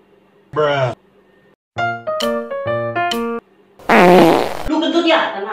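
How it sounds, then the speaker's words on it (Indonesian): Several comic farts come in separate bursts: a short one, then a run of stuttering tonal squeaks, then a long loud raspy blast with a trailing flutter, all close and clear. "Lu kentut ya?"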